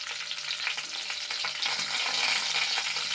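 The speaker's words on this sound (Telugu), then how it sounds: "ఇంకా కరివేపాకు వేస్తున్నాండి." Curry leaves hit hot oil in a frying pan and sizzle with a steady, close crackling hiss and scattered pops, no voices over it.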